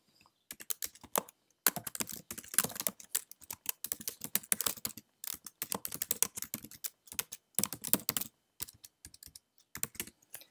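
PHP code being typed on a computer keyboard: rapid, close clattering keystrokes in dense bursts separated by short pauses, fairly quiet and heard on their own with no talking.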